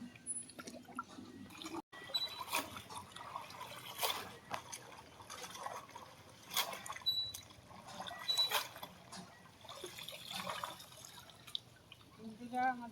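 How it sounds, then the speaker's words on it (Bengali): Pumpkin greens are rinsed in pond water: scattered splashes, drips and trickles come close in uneven bursts, with quiet pauses between handfuls and faint background voices. "পুকুর থেকে কুমড়ো শাকগুলো ধুয়ে নিয়ে যাবো"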